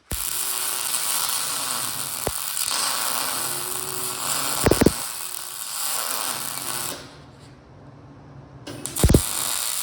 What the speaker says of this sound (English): I'm just going to do a plug weld right there.